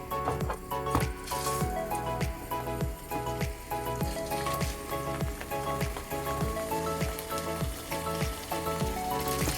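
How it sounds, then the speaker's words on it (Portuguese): Meat sears in a hot pan as the first step of caldo de mocotó, a steady crackling sizzle with popping spatters that runs unbroken and close by, with no talking. "Selar é apenas você, de forma superficial, você fazer uma queima, vamos dizer assim, na carne."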